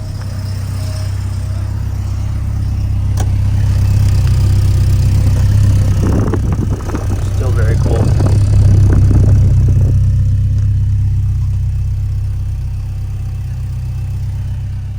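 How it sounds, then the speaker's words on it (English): A 1986 Porsche 944 Turbo engine runs at a steady idle nearby, its low hum swelling a little louder midway with a brief rev before settling back. "Motor just sounds beautiful."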